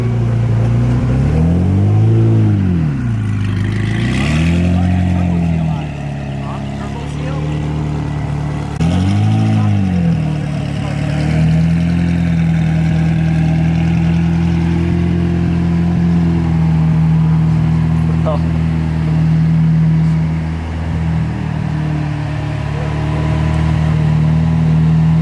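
A hypercar's engine revs in sharp rising and falling bursts early on, then settles into a steady loud drone, with its turbo seal gone and the car smoking heavily. Voices talk intermittently over it.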